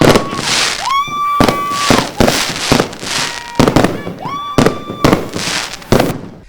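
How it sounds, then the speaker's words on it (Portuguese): A New Year fireworks display over the Fortaleza São Miguel in Luanda, with loud, close bursts and crackles repeating in quick succession, some rising whistles among them, and voices faintly audible in between. "coube a honra a Manuel Homem apertar o botão do comando do disparo do espetáculo de pirotecnia ou fogo de artifício"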